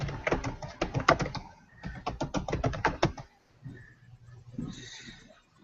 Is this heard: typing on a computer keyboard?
yes